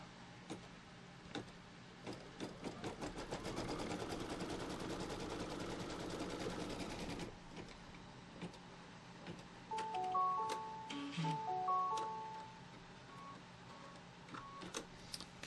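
An embroidery sewing machine rapidly stitches down a quilt piece, a fast dense mechanical rattle for about seven seconds, followed by scattered ticks and brief electronic beeps from the machine, close up with no talk.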